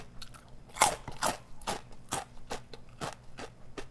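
Crispy, light fried tacos being bitten and chewed up close, a quick series of sharp crackling crunches in an irregular rhythm, with no talking.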